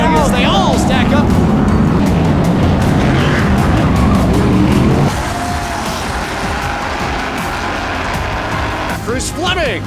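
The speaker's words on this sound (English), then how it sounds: "trouble crams Smith hard into the wall and into the tire barriers" Stock cars in the Cookout Madhouse Classic at Bowman Gray Stadium pile into the wall and tire barriers, a loud continuous roar of engines and skidding tires that drops in level halfway through, with an announcer's voice over the racing.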